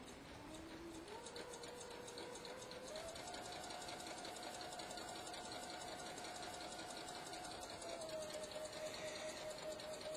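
A sewing machine with a twin needle stitches spandex/poly swimwear fabric in a fast, steady mechanical whir that rises in pitch as it speeds up, continuous and quiet, with no talking.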